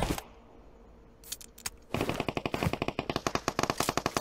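Rapid automatic gunfire in PUBG Mobile, loud and close, rattling in a steady burst of evenly spaced shots after a few scattered single cracks and a brief quiet stretch.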